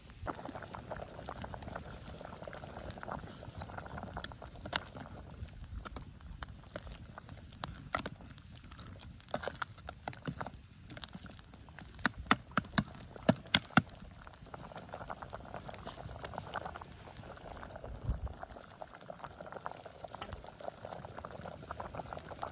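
Turkey bone broth bubbles and boils steadily in a pot over a campfire outdoors, with soft popping and gurgling throughout and a few sharper crackles, fairly quiet and close.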